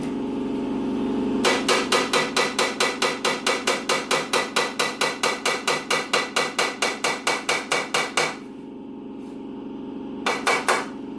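Rapid, steady hammer taps on a metal Royal Enfield motorcycle part, about thirty sharp ringing strikes in a row, then a pause and a short final burst, close and clear.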